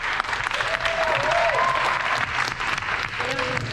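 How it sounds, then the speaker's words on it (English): Construction trades students applaud after finishing their first tiny home build, a dense, steady burst of clapping from a group that holds for several seconds, with a few voices underneath. "give yourselves a round of applause"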